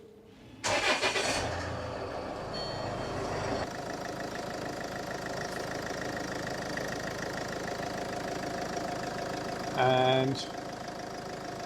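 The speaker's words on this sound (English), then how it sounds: "Please start the engine." A Land Rover Freelander 2 engine cranks briefly, catches and settles into a steady idle, with a short beep near the end.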